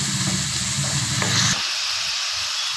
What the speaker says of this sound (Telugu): ఒక పెద్ద ఉల్లిపాయ సన్నగా తరుక్కొని వేస్తున్నాను. ఉల్లిపాయ ఎర్రగా వేగాలి.